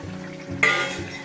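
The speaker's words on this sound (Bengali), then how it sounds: "ভেজে রাখা পটলগুলো দিয়ে ভালো করে একটু নাড়িয়ে চালিয়ে নেব" Fried pointed gourd being stirred in a pan for doi potol: a soft background sizzle, then a brief, sharp spoon scrape across the pan in a short burst, with no voices.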